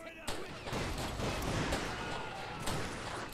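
A Wild West town shootout in a video game produces a dense, continuous barrage of overlapping gunshots and booming reports. Sharp cracks stand out from the roar, and a voice can be heard faintly beneath the firing.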